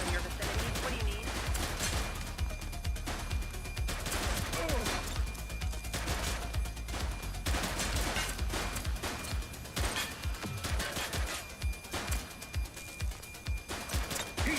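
Gunfire in The Precinct police game: dense bursts of shots and crashes, loud and continuous over several seconds, growing sharper and more staccato toward the end, with a voice talking underneath.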